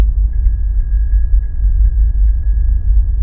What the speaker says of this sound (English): This is how a bicycle bell would sound on Mars.